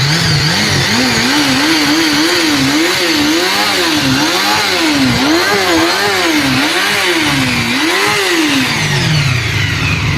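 A motor engine runs loud and close, revving up and down in repeated rising and falling swells over a steady droning hum for the full stretch.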